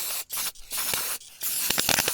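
Aerosol carburetor cleaner sprayed onto the carburetor of a 2005 Chevy Colorado with a rough idle, close and loud, in several hissing bursts broken by short pauses, with quicker spurts at the end.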